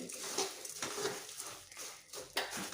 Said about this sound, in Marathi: आता यामध्ये आपण हे मुरमुळे टाकूयात आता हे व्यवस्थित मिक्स करून घ्यायचे